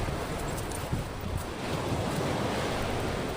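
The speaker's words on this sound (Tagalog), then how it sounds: "grabe ang alon." Ocean waves wash and surge steadily against a rocky shore of crushed coral and broad stones in Bulalacao, Oriental Mindoro, a continuous rushing roar of surf with some wind noise, no voices.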